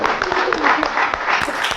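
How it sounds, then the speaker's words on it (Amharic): An audience applauding on an Ethiopian television talk show, dense close clapping that fills the short stretch, with voices mixed in. "አጨብጭቡ ላለ ቅድስት"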